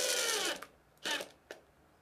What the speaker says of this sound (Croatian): krećemo prvo sa šrafovima 4x18 mm da vidimo da li možemo da iskontrolišemo lepo mašinu i sa malim šrafovima